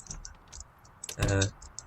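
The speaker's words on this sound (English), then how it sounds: "Sorry if the mouse clicking is actually very loud." Computer mouse clicks while playing Project Zomboid, a few sharp close clicks scattered across the moment, with a brief louder burst of noise near the middle.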